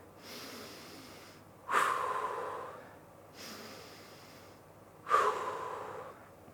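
Two deep, breathy inhalation-exhalation cycles during setup for a TRX exercise, each ending in a sharper, louder exhale; close and steady, with no talking.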